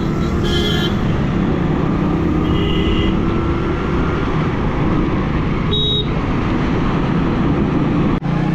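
Vehicles pulling away in traffic on a road in Jammu and Kashmir, heard as a steady loud roar of engines and wind with passing tones rising and falling, a brief high whine midway, no voices.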